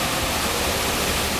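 Car wash water spray drumming onto a car from inside the vehicle, a steady loud broadband hiss and patter with no break and no voices.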